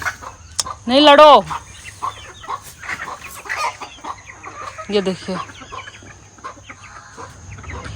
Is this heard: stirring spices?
no